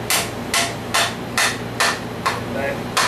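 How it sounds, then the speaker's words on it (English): A small flat hammer strikes metal seven times in a steady, evenly spaced rhythm, each blow a sharp, close, ringing tap with a faint hum underneath. "Takes a little flat hammer."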